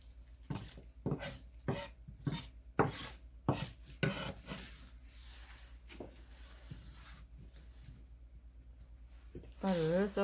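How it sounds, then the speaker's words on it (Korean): A knife chops green onions on a cutting board for a Korean radish kimchi, sending a quick run of sharp, close taps that thin out partway through, with brief clatter near the end. "쪽파를 썰었어요"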